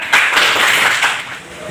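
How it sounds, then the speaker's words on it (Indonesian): Brief burst of classroom applause as students clap after a classmate's answer, a short dense patter of hands lasting under two seconds. "Ya, bagus. Tepuk tangan."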